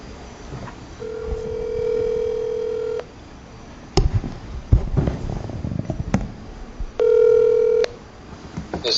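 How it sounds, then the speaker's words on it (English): A cell phone call rings out in a meeting room, with two long electronic ringback tones separated by a stretch of indistinct rustling and noise, loud and close. "I will give him a call on my cell if that is okay with everybody that is here"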